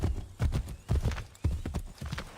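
Horse hooves clip-clop in Assassin's Creed 3 Remastered, a steady galloping rhythm of close, fairly loud hoofbeats in repeated bursts with no talk over them.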